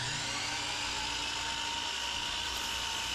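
Cherry wood being cut to size on a miter saw, a steady high whine of the running blade with a dip in pitch as it bites the wood, moderately faint throughout.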